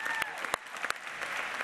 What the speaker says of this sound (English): a round of applause for Phil Simms